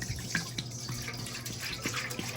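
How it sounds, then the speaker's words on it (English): Burgundy wine pours into a container for sangria, a close liquid trickle and splash with small gurgles and drips over about two seconds. "We're gonna start by adding our burgundy wine."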